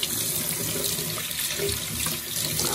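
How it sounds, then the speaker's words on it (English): Tap water runs steadily into a kitchen sink as raw salmon is rinsed under it, a continuous close splashing hiss with no one speaking. "I'm washing it."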